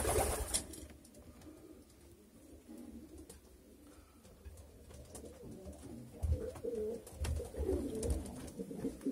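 Young pigeon chicks in a loft coo and murmur softly while being fed together, a continuous low burbling chorus with scattered rustles and taps, fairly quiet and close.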